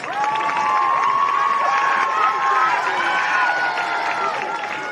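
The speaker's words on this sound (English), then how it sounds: "let's give one more huge round of applause for your 2024 homecoming court" At a high school football game, the crowd cheers and shouts for the 2024 homecoming court, a loud, sustained roar of voices with applause mixed underneath.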